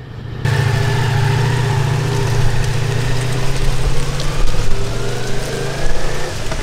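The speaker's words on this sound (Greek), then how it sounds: "Δεν έχει Ακράποβιτς πάνω το μηχανάκι, είναι η μανίσια του, ακούγεται όσο πρέπει." A Ducati Multistrada V4 S motorcycle with stock exhaust idling close by, a low, steady rumble, with a faint hiss of light rain or strong wind in the background and no talking.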